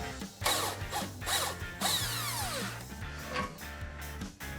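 A ratchet wrench works loose the tie rod nut on a RAM 1500 front suspension, several quick clicking bursts close up with short pauses between strokes.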